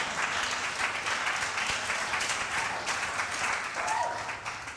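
Congregation applause during a church sermon, dense continuous clapping from many hands filling the room at an even level throughout, with faint voices mixed in.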